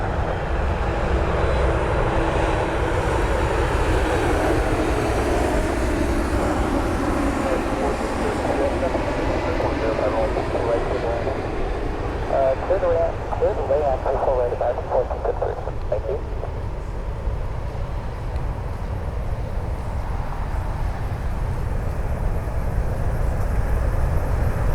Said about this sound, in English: United Airlines flight 2186. It's another 737 MAX.